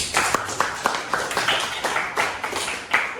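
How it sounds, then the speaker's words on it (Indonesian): Several students clapping in scattered, uneven rhythm, a short burst of applause in a classroom with no talking. "mari kita tepuk tangan dulu"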